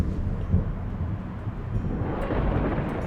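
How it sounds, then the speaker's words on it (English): Low, continuous rumble of thunder from a storm moving in over the Georgian mountains, heard outdoors with steady wind noise and no clear individual crack. "what are the chances the storm catches us?"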